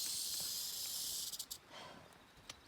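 Rattlesnake rattling in a steady, sustained high buzz at close range during a night out with flat UberLite sleeping pads, breaking into a few short stuttering bursts before settling into a fainter continuous rattle.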